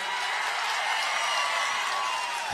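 A large crowd at an outdoor political rally claps loudly and continuously, a dense hiss of applause holding steady throughout.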